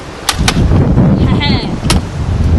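A toy Nerf gun firing at close range, giving a few sharp, brief pops over a loud, rough background of movement and handling noise.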